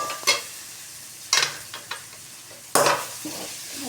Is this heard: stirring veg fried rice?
yes